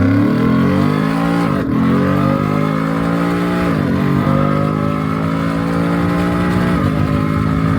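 Tuned Ford F150 pickup pulling hard at full throttle, engine roaring close and loud, pitch climbing through each gear then dropping at three clear upshifts.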